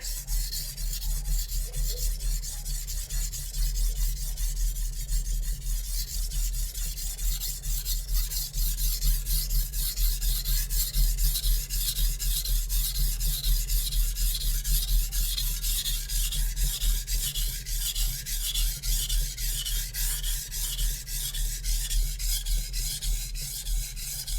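A Zwilling chef knife is drawn repeatedly across a Japanese whetstone, producing a continuous close, rhythmic scraping and rasping of steel on wet stone with no talking.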